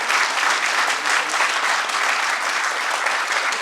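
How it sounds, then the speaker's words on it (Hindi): A theatre audience in Bhopal applauds after a play, a continuous, fairly loud wash of many hands clapping at an even intensity from start to finish. "लेकिन आपकी तालियां बता रही हैं कि हमारी बात आप तक पहुंच गई।"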